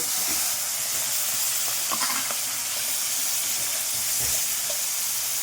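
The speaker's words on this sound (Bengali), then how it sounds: "এরপর দিচ্ছি পেঁয়াজ বক্স সাইজ করে কেটে রাখা পেঁয়াজ" Box-cut onions fry in hot oil in a pan, a loud, continuous close sizzle and hiss with a few soft stirring scrapes underneath.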